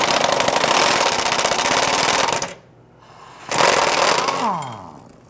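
An impact or air tool loosens a 13 mm bolt under a 2011–2019 Ford Explorer 3.5L during fuel pump work, a loud, close, rapid hammering burst that stops briefly, then restarts and winds down.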